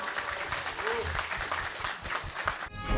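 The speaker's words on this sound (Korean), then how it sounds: "다시 한번 뜨거운 박수 부탁드리겠습니다." Sustained applause from a large audience at a Korean history lecture, dense and steady throughout, with faint crowd noise mixed in.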